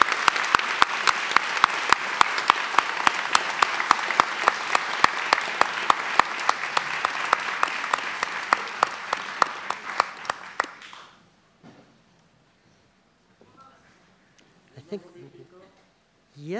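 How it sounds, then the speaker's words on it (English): Audience applause at a literary talk with two authors, steady dense clapping for about ten seconds that cuts off, followed by faint room sounds and brief murmuring voices. "Let's give him a round of applause"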